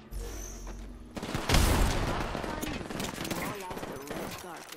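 Rapid gunfire in the battle royale shooter Apex Legends: a dense, sustained burst of shots that begins after a second of quiet and rolls on for several seconds at close range, with voices talking over the fight.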